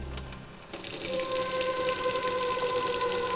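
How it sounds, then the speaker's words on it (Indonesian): A leaking faucet in a quiet toilet room, a soft continuous trickle of running water with a faint steady hum behind it, low in level and heard alone. "Suara gemericik air dari keran yang menetes"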